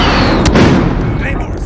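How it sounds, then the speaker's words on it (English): Heavy booming blasts from an allied precision airstrike in an online shooter game, loud and close with a sharp burst near the start followed by rolling rumble, under game voice callouts. "Allied precision airstrike incoming."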